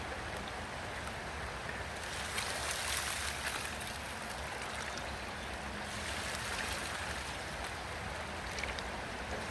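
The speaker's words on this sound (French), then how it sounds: "on va rincer la rampe là pour voir un petit peu ce qu'il y en est" Water rushes continuously as a gold panning sluice is rinsed in the Gier river in Rhône-Alpes, a steady, close, broadband splashing flow with no talk.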